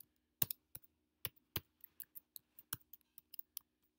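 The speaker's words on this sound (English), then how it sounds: "let me type in again" Typing a password on a computer keyboard: irregular sharp key clicks, some louder strikes and quicker runs of lighter taps, close and distinct over a quiet low hum.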